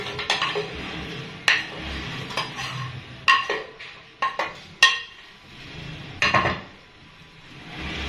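Washed, cut strawberries dropped into a jug, with sharp scattered clinks and knocks of fruit and utensils against the container at irregular intervals between quieter handling sounds.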